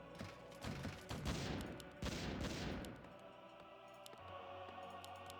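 Mortar teams firing in a Warcraft III match: dense overlapping blasts and crackling impacts in two heavy waves, then thinner scattered pops over a low battlefield rumble.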